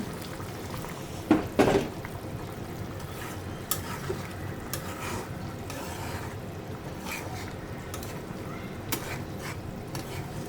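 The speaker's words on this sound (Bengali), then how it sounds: "এখন অল্প একটু ঝোল দিয়ে দেবো বেশি না অল্প" Liquid is poured into a simmering fish and potato curry in a pot, a brief splashing pour followed by a gentle bubbling simmer with occasional soft clinks of a utensil.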